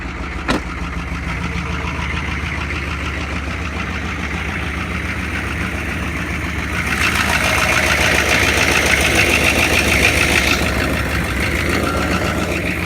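Cold diesel engine idling under the hood, a steady knocking clatter with rough low rumble, close and unrevved, growing slightly louder partway through, no talk.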